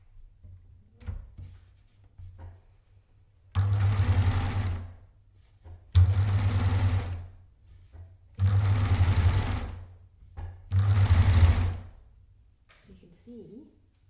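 A Babylock Euphoria coverstitch machine sews shirring in four separate bursts of rapid, loud mechanical stitching, with quiet handling and soft voices in the pauses between runs.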